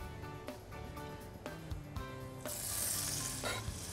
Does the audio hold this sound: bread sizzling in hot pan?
yes